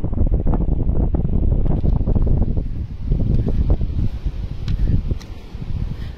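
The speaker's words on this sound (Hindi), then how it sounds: "यहाँ लग रहा है पानी का टकराव कहीं हो रहा है।" Floodwater rushing and colliding around the submerged Bhatauli bridge in Mirzapur during the 2022 flood, a loud, constant low roar buffeted by heavy wind noise on the microphone, with no talk.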